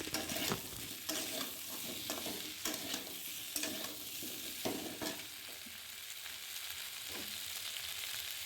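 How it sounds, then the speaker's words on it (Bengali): Mankochu (giant taro) being stir-fried in a pan, with a continuous sizzle under repeated scraping strokes of a spatula, busiest at first and easing off later, close and fairly quiet. "তো আমি ভালো করে কষিয়ে নিচ্ছি, এটাকে কষিয়ে নেব।"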